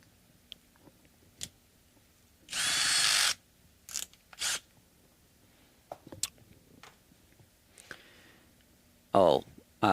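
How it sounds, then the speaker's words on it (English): A power drill fitting hardware on a Telecaster-style partscaster guitar, with short bursts of whirring drilling between clicks and small handling noises on a workbench; one longer burst, then several brief ones. "Let's use the power tool"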